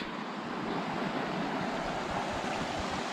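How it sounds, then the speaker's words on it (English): A creek beside a mountain trail near Bench Lakes in Idaho's Sawtooth Mountains, a steady broadband rush of flowing water heard fairly close, with no talking. "We've met the creek."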